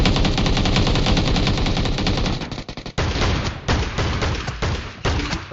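Dense gunfire from a PUBG Mobile match where an M1014 shotgun is in use, loud and nearly continuous, with rapid overlapping shots and thumps, a brief dip near the three-second mark, then renewed bursts.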